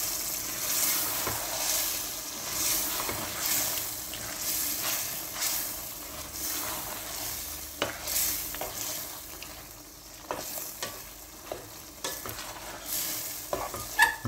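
Chicken, 1.5 kilos, frying in a large pot for biryani, a steady sizzle with repeated scraping stir strokes, fairly quiet and close, no talking.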